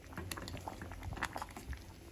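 Moong dal payasa, a sweet lentil pudding, bubbles in a pot at close range, with soft irregular pops and gurgles from the thick boiling liquid and no voices.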